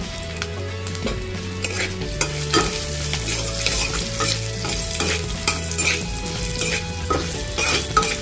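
Bay leaves, whole cumin seeds and green chillies crackle and sizzle in hot oil as a tempering, with steady frying noise, occasional stirring scrapes and light pan clinks, close and continuous without talk.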